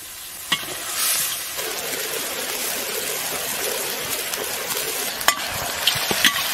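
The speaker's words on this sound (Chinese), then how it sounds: "现在给它大火收汁" Braised snapper sauce bubbling down over high heat in a large iron pot, a continuous loud sizzling hiss with occasional clicks and taps of utensils, no speech.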